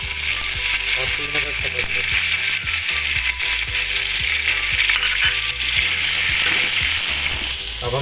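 Tomatoes tossed into light-browned onions in a pan set off a loud, continuous sizzle and frying, with spoon stirring and clinks over it while a voice speaks briefly.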